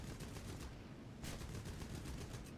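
Aircraft machine guns firing in the War Thunder game from an A7M2 fighter, a faint, rapid continuous rattle of shots across the whole moment.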